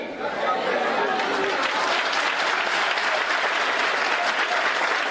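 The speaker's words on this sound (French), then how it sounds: "Une visite fortement applaudie" A crowd at an industrial zone welcomes a vice-president's visit with steady, dense applause that holds for several seconds, chatter murmuring underneath.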